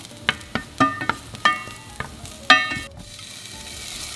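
Garlic, ginger and tomatoes fry in a pan, a quiet sizzle punctuated by a series of sharp clinks and scrapes from stirring, close and alone.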